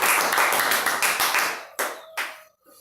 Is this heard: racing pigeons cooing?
no